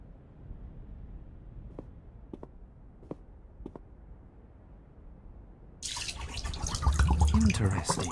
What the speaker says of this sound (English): The water runs back out of one of the other holes.